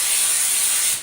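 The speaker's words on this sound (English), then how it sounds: "turn it upside down, and spray until you just see air coming out" An aerosol spray can held upside down to clear its nozzle gives a loud, steady hiss at close range that tapers off at the end.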